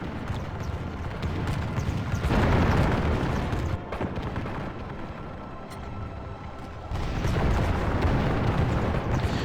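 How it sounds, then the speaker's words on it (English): Musketeers fire from fortress walls in a strategy video game battle, a dense rolling roar of massed volleys that swells, eases briefly mid-way, then surges again. "Our musketeers here are firing from the walls."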